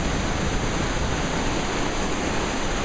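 Steady roar of river water rushing through Vintgar Gorge near Bled, Slovenia, a dense, loud and continuous broadband wash with no voices over it.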